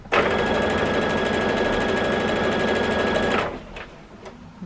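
A sewing machine runs a quarter-inch seam on a jelly roll quilt block, a loud, close, steady rapid stitching whir that stops abruptly after about three seconds, followed by quiet handling sounds.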